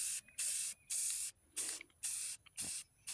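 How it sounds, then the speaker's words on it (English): Aluminum can metal flowers being spray painted: repeated short hissing bursts from an aerosol can, about six sprays with brief gaps between them, close and fairly quiet. "now it's time to start spray painting these."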